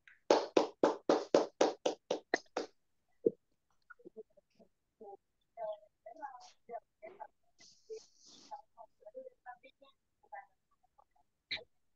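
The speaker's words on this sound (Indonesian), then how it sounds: "Mari kita beri aplaus yang luar biasa untuk beliau." Faint applause from a seminar audience opens with about a dozen quick, evenly spaced claps that stop abruptly, followed by scattered quiet speech.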